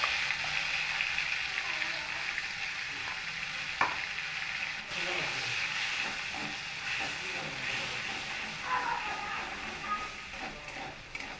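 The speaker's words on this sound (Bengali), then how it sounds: "কালো জিরে, আর দেব একটু গরম মশলা, গোটা গরম মশলা একটু ফোড়ন দেব" Whole garam masala and black cumin seeds tempering in hot oil, giving a steady, close, dense sizzle with scattered crackles and pops throughout.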